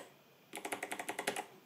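Keys on an 8Bitdo mechanical keyboard fitted with KO Whitebox V2 switches are pressed about a dozen times in a quick, even run of crisp, close clacks.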